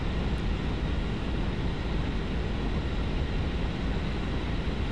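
The Meteor F.4 jet in War Thunder drones on in flight, a continuous, loud engine roar with rushing air that holds level throughout.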